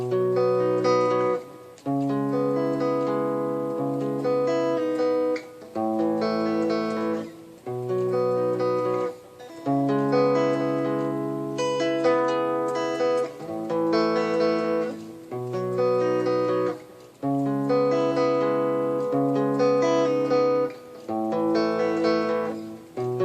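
Guitar plays the verse of a punk song at a slowed tempo, strummed chords in repeated phrases with short breaks between them, clear and alone.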